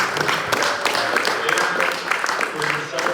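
Audience applause for a group of graduates at a meeting, a steady broadband wash of clapping filling the whole moment at moderate loudness, with voices murmuring underneath.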